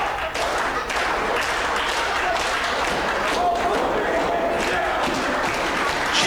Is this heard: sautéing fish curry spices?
no